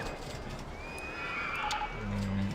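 A horse whinnies in RollerCoaster Tycoon, a clear rising and falling neigh at moderate loudness, followed by a low snort at the end, with no speech.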